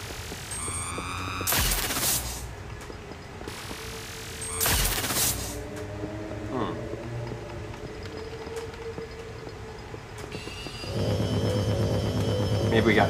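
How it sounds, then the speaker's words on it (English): In Luigi's Mansion 2 at the Old Clockworks Factory, a vacuum hums and throbs as it sucks up smoke, with sharp bursts and rising whirs over a steady drone while someone talks. "We gotta vacuum all that smoke up."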